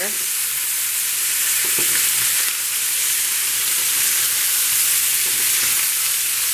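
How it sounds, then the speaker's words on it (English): Italian meatballs fry in a hot pan, a loud, close, steady sizzle that holds evenly throughout, with a few faint knocks from stirring. "When your Italian meatballs have browned on one side, go ahead and give them a gentle stir."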